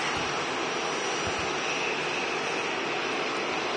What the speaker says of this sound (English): really nice looking Dreamliner this